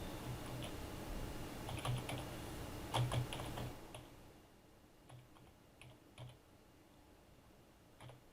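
Typing on a computer keyboard, close up: irregular clusters of light plastic key clicks, busier at first and then sparse, isolated taps.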